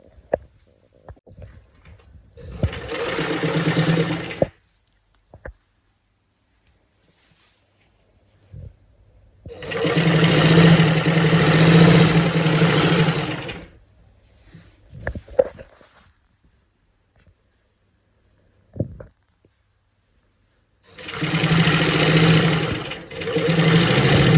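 Sewing machine stitching a gathering pant runs in three separate bursts of rapid mechanical whirring, each a few seconds long, with quiet gaps and faint handling noises between them.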